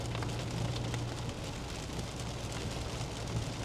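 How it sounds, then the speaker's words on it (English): Steady, dense rain pours down on a dreary morning, a constant broadband hiss with a low hum running underneath and no voices or distinct drops standing out. "It's pouring rain"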